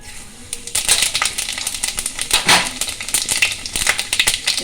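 Panch phoron spices hit hot oil in a kadai wok, bursting into a bright crackling sizzle with rapid popping that keeps going steadily and fairly close.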